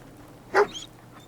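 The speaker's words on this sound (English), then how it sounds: "Talk to the dog." Dogmeat, the dog companion in Fallout 4, gives a single short bark at close range in a quiet game scene, followed by faint ambient sound.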